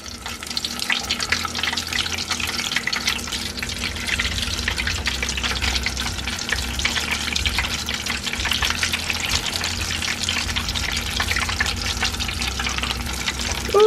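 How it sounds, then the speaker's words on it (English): Macaroni and cheese nuggets deep frying in hot oil give a steady, dense bubbling sizzle that holds at an even level throughout, close and continuous with no talking. "And these are going to fry for about 5 or 6 minutes just so they turn nice and golden brown."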